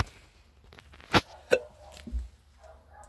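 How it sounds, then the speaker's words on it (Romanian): Two sharp hiccups come a few tenths of a second apart, close and clear, with faint room noise and a soft thump afterward. "sughiț"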